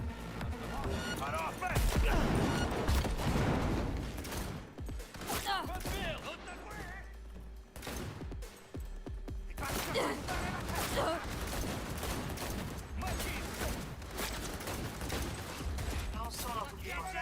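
Gunfire in Cyberpunk 2077, bursts of shots and impacts fired close, with quieter stretches between volleys and game sounds underneath, while a voice speaks over parts of it.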